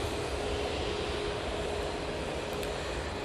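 A Gulf Air Boeing 787-9 Dreamliner on landing approach at Manchester Airport, inbound from Bahrain, heard as a steady broadband jet roar that holds at an even, moderate level throughout.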